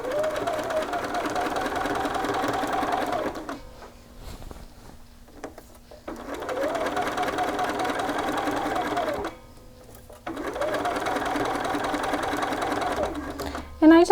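Sewing machine stitching a garment neckline in three sustained runs, each a few seconds long, separated by short quiet pauses, close and clear.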